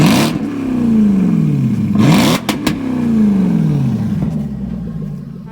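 A 700 hp Jaguar XFR engine revs hard in repeated loud, close pulls, each climbing and then dropping in pitch, separated by brief gear-change pauses and a rumbling idle.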